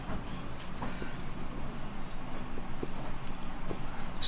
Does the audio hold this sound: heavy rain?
no